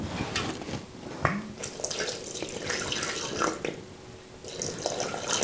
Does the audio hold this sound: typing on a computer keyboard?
no